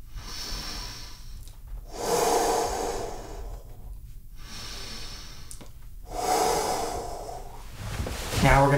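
Deep breathing during a karate stretching lesson: two slow, loud breaths a few seconds apart, each a long airy exhale, with a sharper intake at the end.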